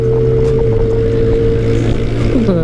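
A Kawasaki ZX-636 sport motorcycle with an SC-Project exhaust idles and revs with a deep, steady drone and a rising whine at the end, loud and close, with no talking.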